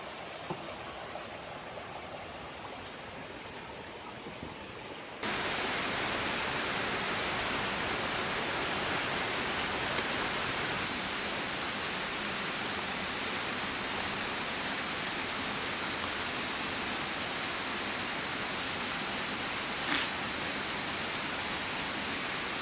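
Water rushes down a spillway running through a village in the Philippines as a steady broadband roar that jumps louder after about five seconds and stays constant and close, with no voices.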